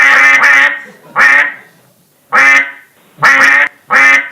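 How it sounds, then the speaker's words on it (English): Cartoonish zombie ducks in an augmented-reality phone game quack loudly and close by, about five sharp quacks in irregular pairs and singles separated by short pauses. "So here is Toby shooting the naughty little zombie ducks quite effectively"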